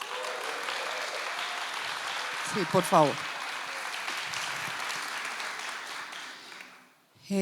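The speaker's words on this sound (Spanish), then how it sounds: "esos aplausos son para ti y para los intérpretes" Steady applause from a concert audience fills the whole stretch, with a brief spoken request in Spanish cutting in partway through before the clapping fades out near the end.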